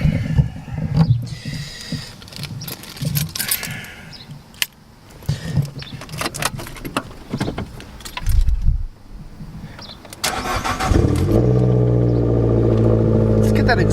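An Abarth car, cold, starts after keys jangle and rattle near the ignition. The engine catches and settles into a loud, steady idle with a rough exhaust note, and someone talks over the early part.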